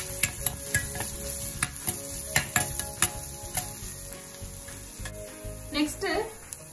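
Chopped onion frying in a pan for homemade pizza sauce, a low crackling sizzle broken by frequent sharp utensil taps and scrapes against the pan, with brief speech mixed in.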